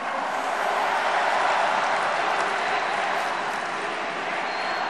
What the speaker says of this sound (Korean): 이재명 동지에게도 뜨거운 박수 보내주십시오